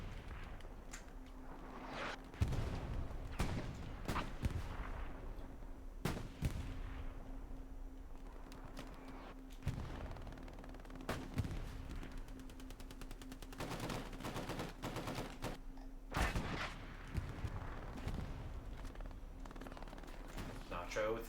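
A Bren light machine gun firing from its bipod in a multiplayer shooter, with bursts of automatic fire and scattered single shots cracking near and far amid a wider battle, under someone commentating.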